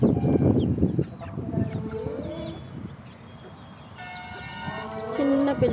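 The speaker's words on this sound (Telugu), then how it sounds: "చూడండి గాయ్స్, చిన్న చిన్న పిల్లలు ఉన్నాయి." Native country chickens on a farm, with small chicks peeping and hens clucking close by in short, busy bursts. A person talks over them in places.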